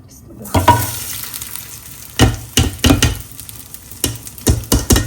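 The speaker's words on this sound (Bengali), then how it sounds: "মাংস হতে হতে আমি চাল ভেজে নিই।" Rice frying in a pot for biryani, stirred in repeated scraping bursts over a steady low sizzle, each stroke loud and close, with no talking.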